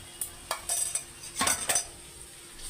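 Ginger paste is stirred in a pan, heard as a few close, scraping clinks of a metal spoon against the pan with a faint sizzle beneath.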